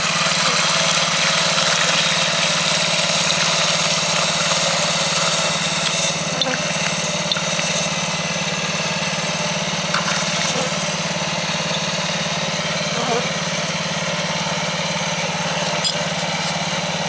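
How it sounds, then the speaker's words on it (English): A dense, steady buzzing drone of a honeybee colony during spring feeding, continuous and fairly loud, with faint small knocks now and then. "so we apologize for any bee noise in there"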